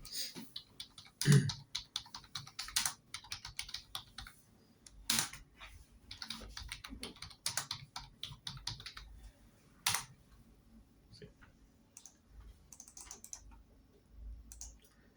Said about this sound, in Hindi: देखिए एक कस्टमर है जिसने यहाँ पे टाइप किया